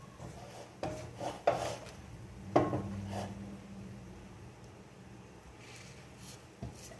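Browned eggplant slices are laid into a pan for eggplant parmesan, giving soft scraping and light clinking taps of utensil on cookware, a few irregular knocks over a quiet kitchen background.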